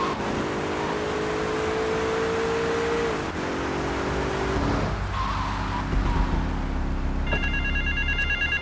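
In GTA 3, a payphone starts ringing near the end as a repeated electronic trill, following a car's engine and skidding tires.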